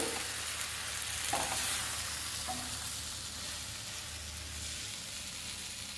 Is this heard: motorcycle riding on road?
no